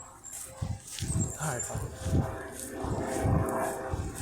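A dog yips and whimpers in short bursts close by outdoors while a man mutters a few words over it.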